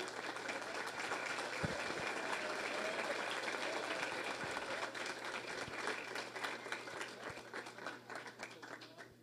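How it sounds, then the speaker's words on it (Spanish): Broad, steady applause from an audience welcoming a speaker to a talk on game development and esports, fairly faint and continuous before it gradually thins toward the end. "Así que con un fuerte aplauso recibimos a Joel."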